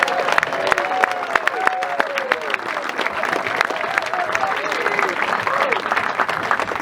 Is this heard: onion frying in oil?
no